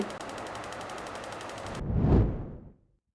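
A Big Horn gas grill fed from a standard propane tank sparks with a rapid, steady rattle of igniter clicks for nearly two seconds, then a close, loud whoosh of flame swells and quickly fades to silence.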